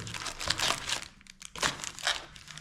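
Pokémon trading cards are shuffled by hand, giving quick crisp riffling and crinkling bursts in an uneven rhythm, close but soft, with no talking.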